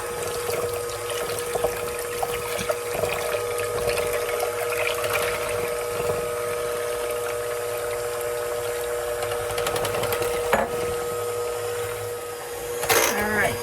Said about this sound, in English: I'm going to start beating slightly as I add the milk.